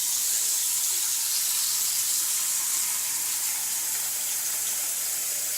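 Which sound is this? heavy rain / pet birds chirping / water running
water running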